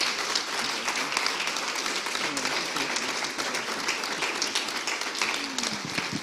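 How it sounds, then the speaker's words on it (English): A keynote audience breaks into warm, sustained applause, steady and fairly loud throughout, with faint voices mixed into the clapping. "Can we give another resounding warm applause?"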